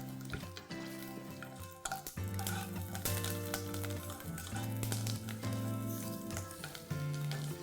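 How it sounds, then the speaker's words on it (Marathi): Green chilies frying in hot oil in a kadai, crackling and popping busily over a constant sizzle, with tonal hums running underneath. "आपल्याला मिरच्या भाजायच्या आहेत ना, त्याकरता ह्या 5-6 जाड मिरच्या आहेत"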